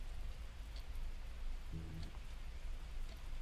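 Steady rain from the video game Paranormal Observation Duty, a continuous soft patter filling the whole stretch at low level, with a brief faint tonal hum midway and no voices.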